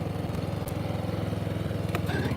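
A Stiga ST 600 Twin riding mower engine runs steadily with a loud, continuous rhythmic low throb, close and even throughout, with no talk.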